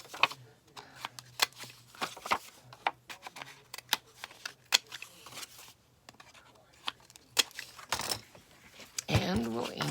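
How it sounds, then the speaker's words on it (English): Small crisp snips and clicks from a corner rounder trimming the edges of a paper card for a no-sew journal, spaced irregularly and close up, followed by some rustling of paper. "actually on this one, I'm going to round the edges"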